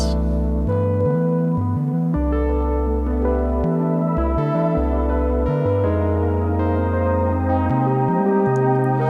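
Sustained synthesizer chords shift through a slow progression, warm and steady, with no voices.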